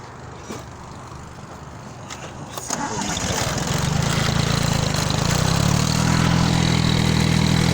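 A small garden tractor's engine cranks and catches at about three seconds, then settles into a steady, loud, close running rumble that holds to the end, outdoors beside a flowering asparagus patch.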